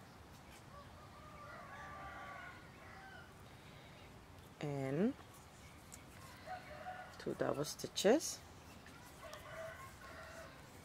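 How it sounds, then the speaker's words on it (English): Rooster crowing outside late in the morning, heard at a distance with a few drawn-out crows and clucks while a person speaks nearby over a quiet background. "I guess the rooster is up late."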